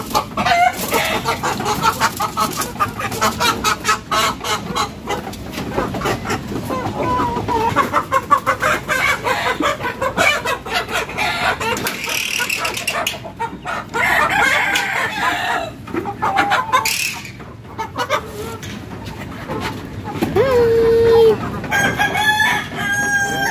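Rhode Island Red chickens on a gamefowl farm fill the air with loud, continuous clucking and repeated crowing from roosters close by, with occasional voices mixed in.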